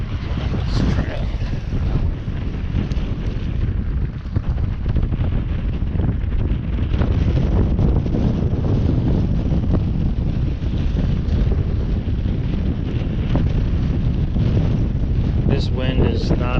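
Strong wind roars over a jetty on a South Texas coast, buffeting the microphone with continuous loud rumbling gusts and the wash of surf beneath, with no talk.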